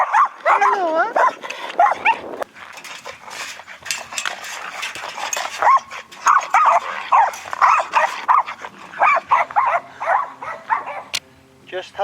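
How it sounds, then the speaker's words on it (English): Dogs at a breeding kennel on a Welsh coastal path bark, yip and whimper nearly nonstop, several animals close by, with people talking in between. "Breeding kennels here."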